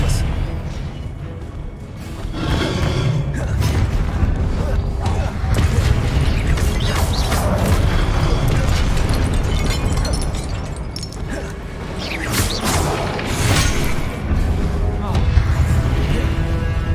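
Spell casting and explosions in the Hogwarts Legacy video game, with dense booming blasts, crackling impacts and shattering debris over a rumbling low end, continuous and loud, with a voice speaking over parts of it.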